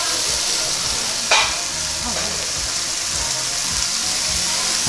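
Kobe beef steak sizzling on a grill at an all-you-can-eat Korean barbecue buffet, a steady loud crackling hiss with a brief sharper flare and faint voices in the background.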